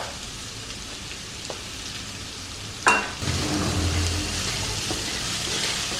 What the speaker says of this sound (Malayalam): ഉള്ളി പെട്ടെന്ന് വഴണ്ടി വരാൻ സ്വല്പം ഉപ്പിട്ട് കൊടുക്കാം